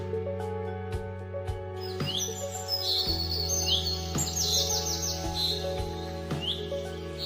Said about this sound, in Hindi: सुबह सुबह गांव में चिड़ियों की चहचहाहट